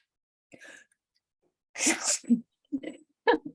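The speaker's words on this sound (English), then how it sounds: "Oh no, I'm going to sneeze." A single sharp sneeze bursts out mid-clip, preceded by a short breathy intake and followed by a few brief vocal sounds and another quick burst.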